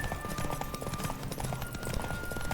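Horse hooves clip-clopping in The Witcher 3, a steady run of close hoof beats with faint game background around them.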